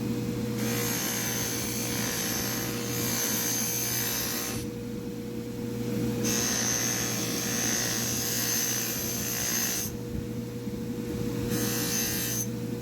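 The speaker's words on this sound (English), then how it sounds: "Now we'll just buff it up." A buffing wheel with white compound polishes a chipped knife blade, giving a steady motor whine with a rough rasping hiss that swells in several long passes and drops away between them.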